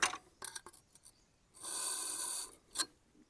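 A Victorinox cleaver being sharpened on a Tormek sharpener: short scraping rasps at first, then one long steady grinding stretch and a final brief scrape, close up with no talk.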